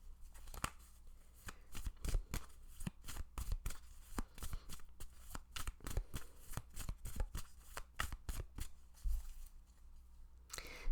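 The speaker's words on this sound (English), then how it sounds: "Let's get some more cards." Tarot cards being shuffled and drawn by hand: a long run of crisp, rapid riffles and snaps, close and fairly quiet, with no talking.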